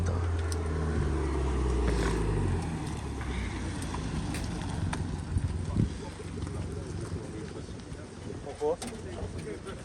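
A V8 car engine runs with a deep, rumbling idle that is strongest in the first few seconds, then settles under steady wind noise and people talking nearby.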